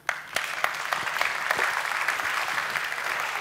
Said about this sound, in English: Can we get a slow clap for Holger, please?